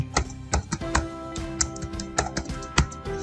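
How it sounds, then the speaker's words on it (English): Rapid keystrokes on a PC computer keyboard, a quick uneven run of sharp clicks and taps, close and fairly quiet, with no talking. "say I'm typing Delhi Public School"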